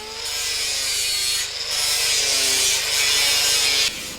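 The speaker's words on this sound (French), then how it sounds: "Les couches de peinture et de polyester subissent un ponçage." Layers of paint and polyester are sanded off a synthetic car body, giving a loud, continuous rasping grind with a few short breaks.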